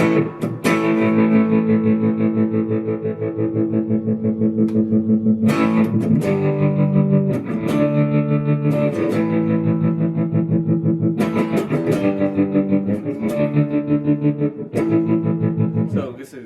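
A distorted electric guitar plays chords through a Catalinbread Semaphore tap tremolo pedal, loud and sustained with rhythmic chopping, and pauses briefly between phrases.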